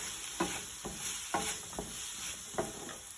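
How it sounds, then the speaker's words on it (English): Fennel seed powder is stirred into cod fish in a pan over a faint sizzle, with about five soft scraping strokes of the spoon, close and quiet. "Fennel seed powder. Give it a good stir."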